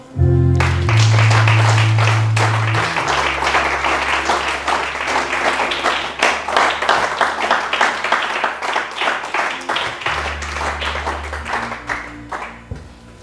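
A church congregation breaks into loud, dense clapping and applause that swells and continues for several seconds, with some voices and low organ or keyboard tones underneath before it thins out.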